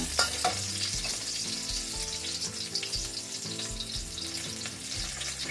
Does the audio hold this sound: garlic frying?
yes